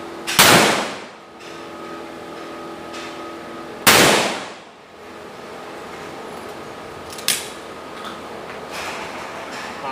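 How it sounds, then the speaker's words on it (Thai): Two loud blasts from a Turkish over-and-under shotgun at a 25-meter range, a few seconds apart, each with a ringing, echoing tail, followed later by a fainter sharp crack. "เดี๋ยวเราจะเริ่มยิงที่ลำต้องล่างนะครับ"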